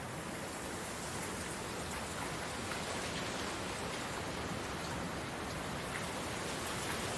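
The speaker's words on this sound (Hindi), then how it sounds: "रास्ते में बहुत तेज बारिश होने लगी" Heavy rain pours in a Hindi animated story as a crow and a sparrow head home, a dense, steady hiss of downpour that stays loud and even throughout with no voices.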